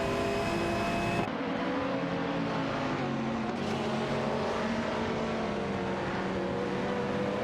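Race car engines roar continuously in an AI racing video game, a dense high-revving drone with cars passing, loud and steady throughout without any voices.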